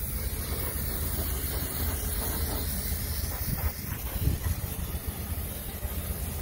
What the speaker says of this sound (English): I'm spraying A-arms